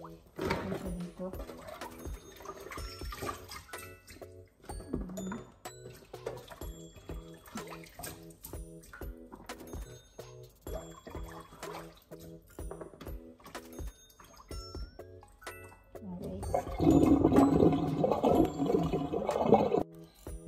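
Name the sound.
washing sliced food under running water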